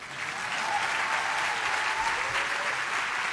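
Keynote audience breaks into applause, a dense and even patter of many hands that swells in quickly and holds steady, with no voices over it.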